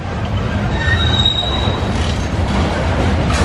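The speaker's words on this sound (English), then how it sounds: "that's some squeaky train action" Wheels of a train near an old depot squeal in a thin, sustained high-pitched whine over a low rolling rumble of railcars passing nearby.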